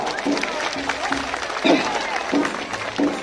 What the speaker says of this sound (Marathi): हात वरती करून जोरात टाळ्या वाजवा